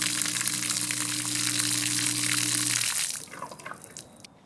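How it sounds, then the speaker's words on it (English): Washing machine on its final drain and spin, a loud rushing gush of draining water over a steady motor hum that cuts off near three seconds, leaving trickles and drips. "And here we are on the final drain and spin."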